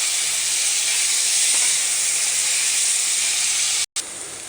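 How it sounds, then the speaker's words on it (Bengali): Pieces of taro hiss in hot oil seasoned with dried red chilli, a loud, steady, close sizzle that drops out for a moment near the end before resuming. "এই দেখুন, তেলের মধ্যে কচুগুলো ছেড়ে দিলাম।"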